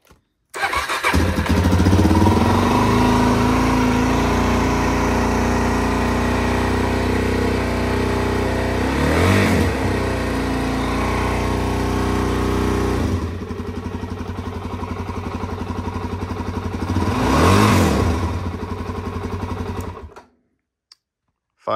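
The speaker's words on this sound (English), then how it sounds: "We'll fire this bike up." A 2023 Suzuki DRZ 400 SM carbureted motorcycle starts and settles into a steady loud idle, with two distinct revs rising and falling over about twenty seconds before cutting off at the end.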